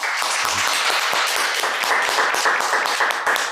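Audience applause at a gathering with Mario Aubé and young people in Gatineau, a dense, steady patter of many hands clapping throughout.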